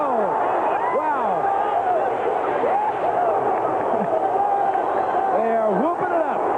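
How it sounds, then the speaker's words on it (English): A crowd at the finish of the 1984 Sarajevo Olympic giant slalom roars and whoops continuously, with rising and falling shouted cheers over a broadcast commentator's voice. "Listen to that crowd now."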